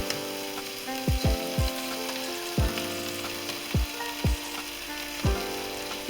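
Chicken pieces sear in a pot for chicken noodle soup, giving a bright continuous sizzle punctuated by about eight sharp metallic knocks and clinks of a utensil against the pot.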